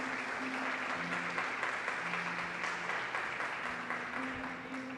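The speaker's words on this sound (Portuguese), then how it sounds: "Você pode aplaudir a Jesus nessa noite?" Congregation at an evening church service applauding, a sustained, moderately loud roar of clapping, with a low hum and sustained tones underneath.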